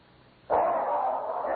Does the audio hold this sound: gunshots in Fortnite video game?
no